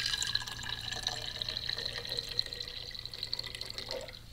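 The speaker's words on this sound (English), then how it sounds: "and we add water to that," Spring or well water aged in a garage runs into a jar, a soft continuous trickle and splash that stays fairly quiet and steady throughout, with no talking.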